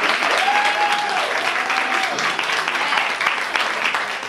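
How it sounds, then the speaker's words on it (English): An audience applauds three women at the close of a panel discussion at a digital magazine launch: dense, steady clapping fills the room throughout, with a brief tonal whistle or cheer rising above it early on. "let's give these three ladies a round of applause"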